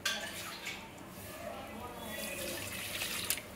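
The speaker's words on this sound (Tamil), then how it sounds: "போட்டுட்டு ரைஸுக்கு வேண்டிய தண்ணியை ஊற்றிடணும்." Water poured into a pot while cooking mint rice, a continuous splashing, trickling stream at moderate volume with a slight rise toward the end.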